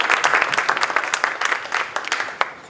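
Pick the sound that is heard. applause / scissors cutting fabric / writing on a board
applause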